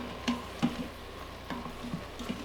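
Smoked paprika, garlic powder, onion powder and salt sizzle faintly in an Instant Pot on sauté mode, with a soft frying hiss broken by a few sharp scraping taps of stirring.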